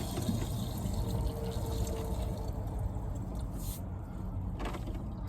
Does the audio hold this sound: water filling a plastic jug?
yes